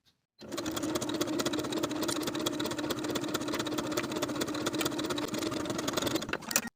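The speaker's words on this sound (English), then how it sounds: "Then I'm going to sew with a narrow zigzag stitch and a 5/8 inch seam allowance on both sides" Sewing machine stitching a narrow zigzag seam, a loud steady motorized whir with rapid needle chatter starting abruptly and running nonstop for about six seconds before cutting off.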